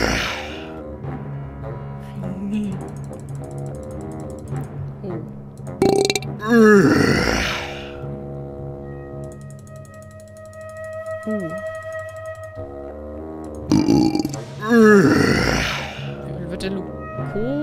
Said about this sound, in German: Wir könnten seinen Namen rülpsen.